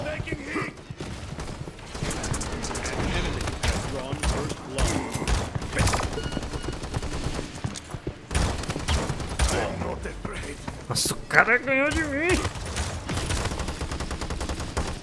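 Rapid gunfire and ability effects from the online shooter Paladins on an unfamiliar map, dense and continuous, with someone talking excitedly over the game sounds throughout.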